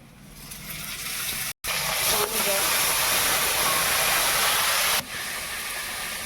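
Ginger, garlic and cumin paste hits hot oil in a pan for a Bengali fish curry, giving a loud, steady sizzling hiss that runs almost unbroken, with a brief cut partway through.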